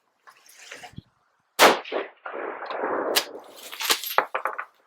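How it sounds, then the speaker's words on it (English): An R15 rifle chambered in 6mm ARC, loaded with 108 ELD-M bullets, fires during a five-shot group. A couple of sharp, loud reports ring outdoors, with clanking and rustling between them. "we're going to go ahead and shoot this last 5-shot group"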